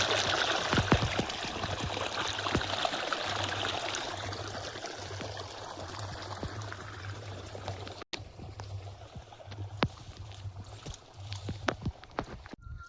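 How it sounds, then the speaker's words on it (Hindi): Water runs steadily from a tap or pipe outdoors in a village garden, a continuous rushing trickle with scattered splashes, briefly interrupted midway, with no talk. "एपटे देखिपे पानी चालू हो जाइए"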